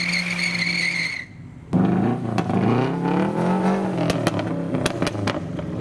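Modified cars arriving at a car show, including a Subaru, rev their engines and skid. A steady tone gives way to a loud, close burst of engine noise that rises and falls, with sharp squeals and knocks through it.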